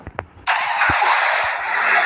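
A motorbike engine in a video game starts with a sudden loud catch after a few small clicks, then holds a steady, close, buzzing idle.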